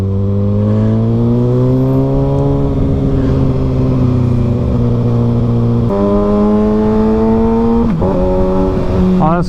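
A 2023 Kawasaki ZX6R motorcycle engine drones loudly and steadily while riding, with its pitch climbing through the gears and dropping sharply at each shift.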